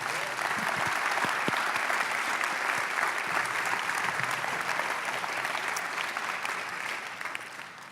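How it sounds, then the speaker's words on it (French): An audience applauds dancers after a dance performance, a thick, sustained wash of clapping from a large crowd with a few sharper nearby claps early on, slowly easing toward the end. "on peut vraiment les applaudir"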